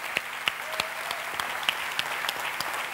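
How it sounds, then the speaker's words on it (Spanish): Steady crowd applause for candidate Rocío Anguita at a political programme presentation in Valladolid, a dense, even roar of many hands with occasional sharper claps standing out, sustained without talk. "Candidata número 3, Rocío Anguita, un fuerte aplauso para ella."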